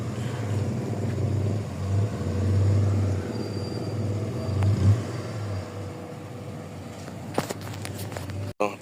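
A 1986 Honda Civic engine, repaired for overheating with new valve seals, revs at full throttle as a steady low rumble that swells and eases over several seconds before cutting off, with faint clatter near the end.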